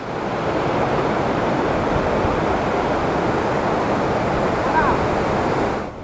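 A waterfall in Purulia, where visitors bathe, gives a steady, dense roar of falling water that holds at an even level for about six seconds before cutting off.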